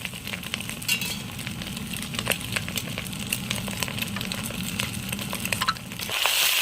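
Boiled macaroni is stir-fried with egg and chilli in a pan: a continuous soft sizzle under busy spatula stirring and scraping, ending in a brighter hiss.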